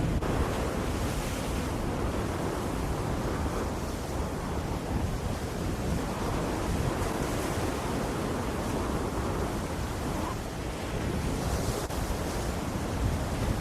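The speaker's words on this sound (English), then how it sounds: "You gotta be crazy to get up there with them waves coming over." Ocean waves crash over the rocks of a south jetty, a continuous loud roar of surf and wash with wind buffeting the microphone, filling the whole stretch without any voices.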